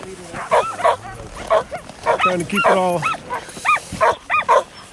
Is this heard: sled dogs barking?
yes